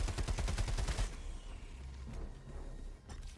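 Automatic gunfire in the video game Helldivers 2 rattles out as a loud, rapid burst for about a second, then drops to a quieter rumbling tail, with one more sharp shot near the end.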